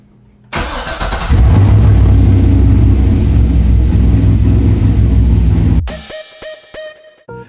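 An LS V8 in a Corvette cranks, catches and roars to life, running loud and rough for several seconds before cutting off abruptly, followed by a few quiet clicks and taps.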